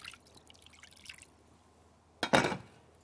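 Water splashes from a running tap as hands are rinsed after a homemade lavender sugar-and-lemon scrub, arriving as a short burst near the end after faint dripping.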